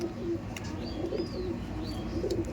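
Andhra breed pigeons, lightweight birds kept in pairs, cooing softly and repeatedly in a loft, with low rolling coos and a few faint higher chirps over steady background noise.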